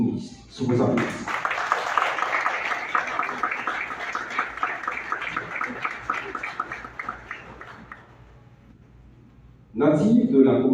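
Crowd applause at a youth government inauguration ceremony in Haiti, greeting the young prime minister: steady, dense clapping for several seconds, starting after a brief voice, tapering off, then voices return loudly at the end.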